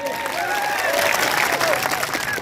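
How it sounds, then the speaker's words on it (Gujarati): Applause from a crowd at a political rally during a Parivartan Yatra, a steady wash of clapping at moderate level with some voices and whistling tones mixed in. "અહીંયા જેટલા પણ પોલીસ અધિકારીઓ છે એમના માટે જોરદાર તાળીઓ પાડી લો."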